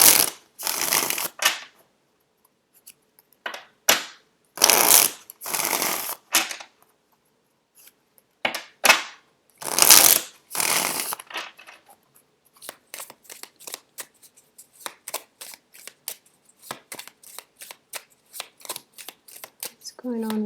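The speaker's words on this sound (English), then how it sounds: "let me get the cards shuffled out here." Tarot cards being shuffled in quick riffling bursts, loud and close, with softer flicking and handling sounds trailing off toward the end.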